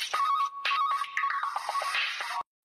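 Mobile phone ringtone playing a continuous electronic melody with a steady tone, close and fairly loud, cutting off abruptly near the end.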